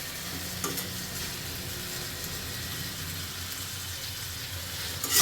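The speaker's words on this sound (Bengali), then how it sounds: "ভালোভাবে নাড়াচাড়া" Layer chicken curry frying in a pan with green chillies and coriander leaves, stirred steadily, giving a continuous close sizzle with soft scraping, no talking.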